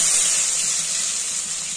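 Hot oil in a wok, the first step before onion paste goes in for a prawn malai curry, giving off a steady, loud hiss that holds constant throughout.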